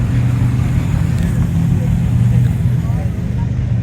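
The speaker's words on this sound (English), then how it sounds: "We're getting a drive-by." A car drives by at a Pumpkin Run car show with a loud, steady low engine rumble close by for the few seconds heard, and a voice talks over it.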